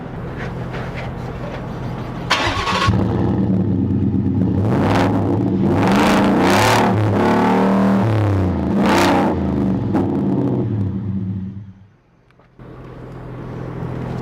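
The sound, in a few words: Ford F-150 Roush V8 truck engine revving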